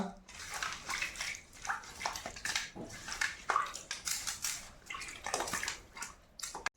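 Chicken legs are washed in water, with splashing, sloshing and dripping running through the whole stretch in uneven bursts, close and moderately loud, with a voice faintly in the background.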